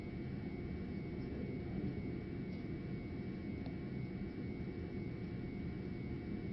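News helicopter hovering over a police chase in Houston, a steady, dense rotor and engine rumble heard from a distance, continuous and unchanging with no voices.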